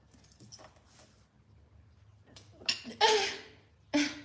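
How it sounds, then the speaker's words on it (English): A sudden close sneeze bursts out after quiet shuffling, followed by a shorter second burst moments later. "Sorry, that was a sneeze."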